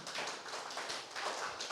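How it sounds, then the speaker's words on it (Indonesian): Church congregation clapping during a Sunday worship service, a brief, moderately soft round of scattered applause with uneven taps and no one talking. "Kok Anda tepuk tangan saja ini"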